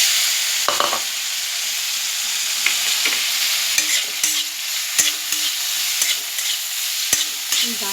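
Boiled taro being stirred in hot mustard oil in a pan, with a constant sizzle broken by sharp, repeated scrapes and clacks of the spoon against the pan.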